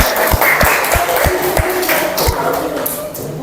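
A classroom of students claps together, with rhythmic thumping claps close by and a noisy room around them.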